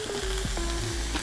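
Prepared vegetables hit a hot pot of meat and doenjang soybean paste for doenjang-jjigae, setting off a loud, close sizzle with a few stirring scrapes.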